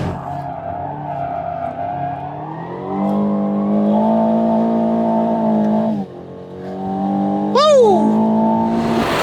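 Aston Martin Vantage engine revving hard on a race track, a loud sustained roar climbing through the gears with a sharp rising rev flare near the end, and a brief dip as it shifts.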